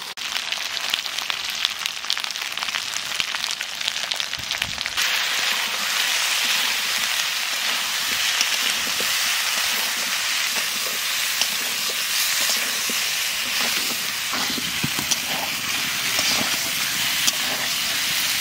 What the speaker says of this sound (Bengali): মশলার সাথে আলুটা একটু কষায় নিলাম